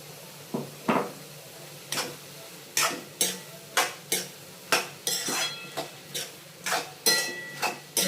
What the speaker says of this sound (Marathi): याचा कच्चट वास पूर्ण जाईपर्यंत हे आपण फ्राय करून घ्यायचं.